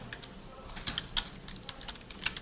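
Keys pressed on a computer keyboard, a Ctrl+S save shortcut, as a few light, separate clicks in quiet, close to the listener with no talk over them.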